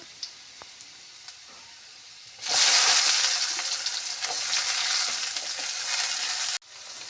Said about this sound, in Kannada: ಈಗ ಉಳ್ಳಾಗಡ್ಡಿ ಹಾಕಿದ ಮೇಲೆ ರೀ ಇದನ್ನು ಚೆನ್ನಾಗಿ ಫ್ರೈ ಮಾಡಿಕೊಳ್ಳಿರಿ